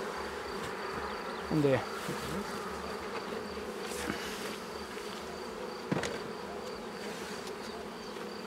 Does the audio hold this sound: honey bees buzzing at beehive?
yes